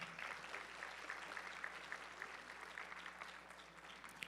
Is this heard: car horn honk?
no